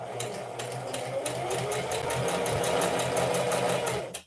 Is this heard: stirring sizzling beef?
no